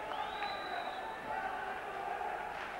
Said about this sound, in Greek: ακούγεται τα χειροκροτήματα